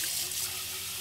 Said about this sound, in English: you see how it kind of bubbles up when you add the vinegar